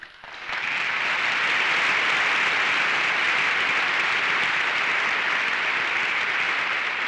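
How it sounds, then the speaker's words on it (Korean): An audience in the US Congress applauds during President Roh Tae-woo's 1989 address, a sustained loud wash of clapping that swells in quickly and holds steady throughout. "이날 40분간의 연설 도중 17차례 박수를 받았습니다"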